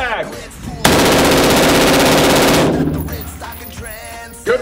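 An AR-15 firing fully automatic from a Hex Mag, one loud, continuous burst of rapid shots lasting under two seconds, followed by ringing and small handling noises.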